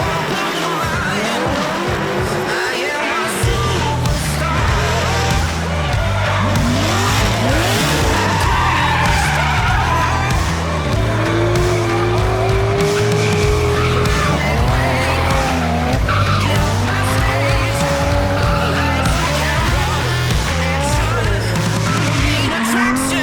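Drift cars at a drift event slide continuously through the whole stretch, their tires squealing in long, wavering shrieks over loud, steady engine roar, close and relentless without a break.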